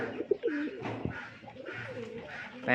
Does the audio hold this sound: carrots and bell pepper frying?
no